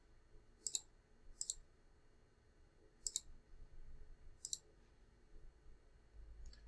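Buttons pressed on a calculator keypad while entering an equation: four sparse, crisp clicks spaced about a second apart, faint and close, with no talking.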